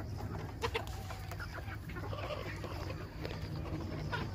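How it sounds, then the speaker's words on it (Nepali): Local free-range chickens cluck and call at a backyard coop in Nepal, faint and somewhat distant over a constant outdoor hum and light rustling. "आज चाहिँ म तपाईँहरूलाई मेरो लोकल कुखुराहरू देखाउँदैछु"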